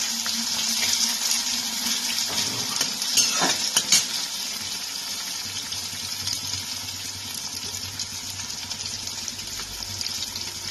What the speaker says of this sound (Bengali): ফোড়নটা একটু ভাজা হওয়ার পর আমি এর মধ্যে পেঁয়াজ কুচিগুলোকে দিয়ে দিলাম।